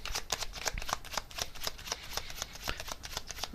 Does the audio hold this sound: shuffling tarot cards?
yes